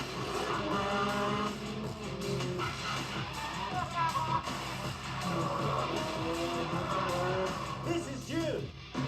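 A Cybertruck drifts offroad, with a continuous rumble of engine and tires and rising squeals and skids, while voices talk and shout over it.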